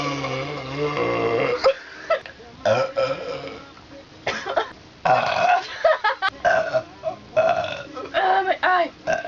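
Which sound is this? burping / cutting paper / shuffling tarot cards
burping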